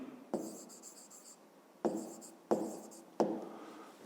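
Pen strokes on paper while writing out a math exercise by hand, four sharp scratchy bursts, each tapering off, close and quiet with no talk.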